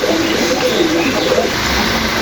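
Pigeons cooing in soft, repeated low calls over a steady background hum, with no one speaking.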